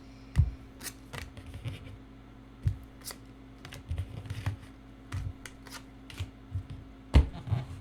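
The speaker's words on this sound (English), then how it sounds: "This is how I shuffle. I just don't want the cards to be next to each other" A deck of tarot cards being shuffled by hand, giving a string of soft, irregular riffling clicks and slaps in short bursts across several seconds, close up and fairly quiet with no talking.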